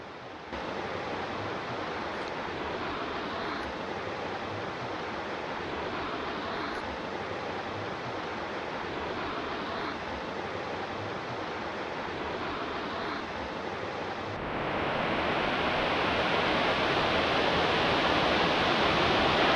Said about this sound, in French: à la recherche d'une cascade que le refuge nous a conseillé